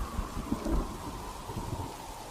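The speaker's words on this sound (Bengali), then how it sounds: "বৃষ্টি তো শুরু হয়ে গেল" Rain with distant thunder begins, a low rumble swelling briefly near the start over a steady wash of falling rain, heard alone without voices.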